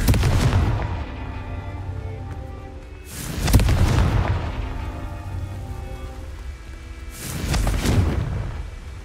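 Three heavy booming blasts from the Confringo fire spell in Hogwarts Legacy, each a loud, deep explosion with a rumbling tail, arriving roughly every three to four seconds.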